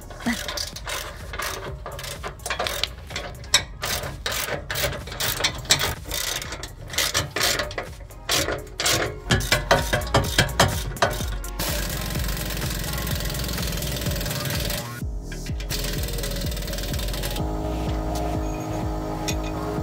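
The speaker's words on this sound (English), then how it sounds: "Using an 18mm wrench, we're just gonna tighten those bolts." Rear bumper bolts on a build tightened with an 18mm ratchet wrench, with rapid close clicking ratchet strokes in bursts, followed by a steady mechanical whir and clatter later on.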